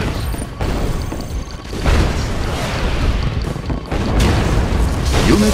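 Missile strike in the Yuri's Revenge Aliens Invasion mod, loud rumbling booms that swell and roll in several waves, with short quiet gaps between the blasts.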